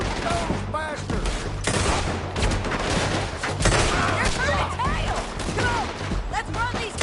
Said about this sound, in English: Let them have it, boys! Shoot those bastards!